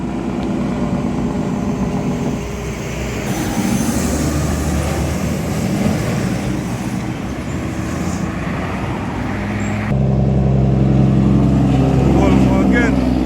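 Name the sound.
Volvo truck driving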